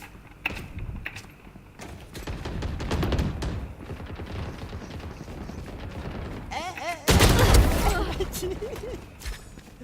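Gunfire sounds out in a Valorant match: scattered sharp shots, then a louder burst near the end, all mixed with busy game effects and people talking.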